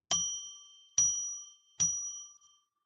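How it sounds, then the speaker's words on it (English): A bell is struck three times at an even pace, each bright, ringing strike hanging and fading before the next, clear and close with no talking. "I'm going to ring a bell 3 times now and declare a sacred space."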